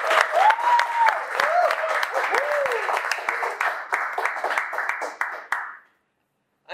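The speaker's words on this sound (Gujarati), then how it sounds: "એક વખત જોરદાર તાળીઓ રામ અને વિજય બંને." An audience at a Gujarati talk-show event gives sustained, dense applause, loud and even for several seconds before it stops abruptly into silence.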